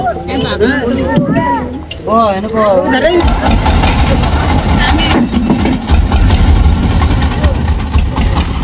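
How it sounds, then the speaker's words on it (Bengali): Engine of a wooden river trawler on the Meghna starting up and settling into a loud, steady rumbling idle, following a stretch of voices talking. "এই ট্রলারটি এখন ছেড়ে দিবে এটি একটি কাঠের ট্রলার"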